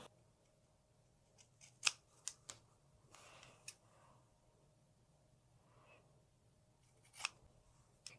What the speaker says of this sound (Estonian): Aga need nurgad ma lõikan ennem väiksemaks.